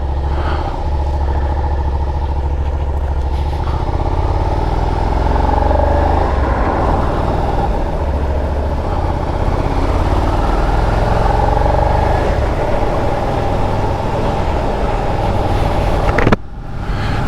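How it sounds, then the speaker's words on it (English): A 2023 Suzuki SV650 V-twin motorcycle rides off with a deep, throaty engine note that rises and settles as it pulls away, steady and close, with wind rumble and a sharp knock near the end. "L-twin or V-twin, either way, feels nice and throaty."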